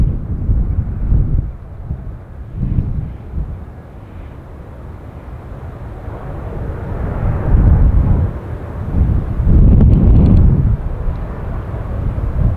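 WestJet Boeing 737-700 jet from Calgary near San Francisco airport, a broad low roar rising and swelling toward the end with some wind buffeting on the microphone.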